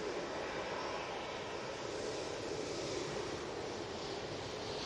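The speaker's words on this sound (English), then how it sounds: "Ryanair's just arrived." A Ryanair passenger jet arriving at Manchester Airport gives a continuous broad engine roar, even and distant, with no talk over it.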